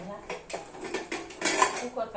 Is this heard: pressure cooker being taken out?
yes